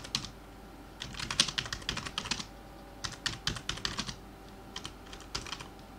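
Bursts of rapid typing on a computer keyboard, clear and close, separated by short pauses as a sentence is written on a web page; no voices.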